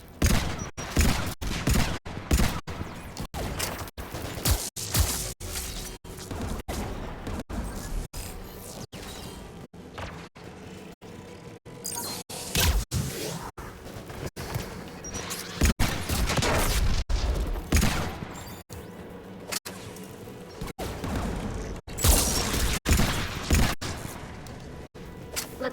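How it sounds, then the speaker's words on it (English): Anti-aircraft guns fire in the sci-fi shooter Mass Effect 3, a long run of sharp, regular booming shots thudding in quick succession, some louder and nearer, with rumbling between bursts. "AA guns ahead of us."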